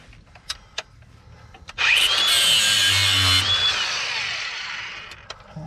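A power tool cuts off a hanging piece of metal under an old Ford Torino, a loud grinding whine starting abruptly after a few faint clicks and knocks and tailing off over about three seconds.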